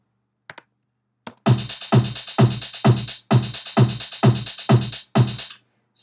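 Hi-hat pattern from a Logic EXS24 sampler, quantized to a straight 16A grid: a few isolated ticks, then a loud, close, evenly spaced run of crisp hits with brief gaps between bars.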